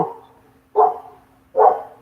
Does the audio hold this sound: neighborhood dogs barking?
yes